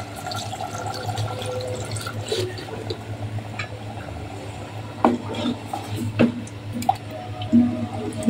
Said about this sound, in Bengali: আর একটু পানি দিতে হবে